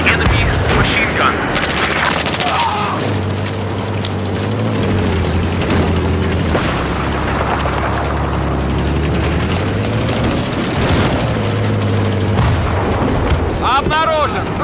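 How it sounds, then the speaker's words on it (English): Battlefield 4 combat: dense rumbling gunfire and explosions fill a continuous loud battle din, with voices calling out over the top throughout. "This is an enemy machine gun."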